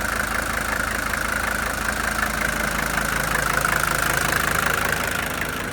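An old diesel engine idles close by with a steady, even knocking rumble that holds without a break, and no voices are heard.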